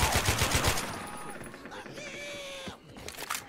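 Automatic AK rifle fire in the zombie shooter Left 4 Dead 2, a fast burst of shots up front fading into quieter scattered game noise, with a voice talking over part of it.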